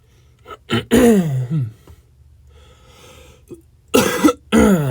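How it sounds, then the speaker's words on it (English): A person with allergies coughs and clears their throat in several harsh, close bursts, with sharp gasping breaths between, the fits clustered at the start and again near the end with quiet gaps in between. "So if I'm coughing and clearing my throat a lot, that's why."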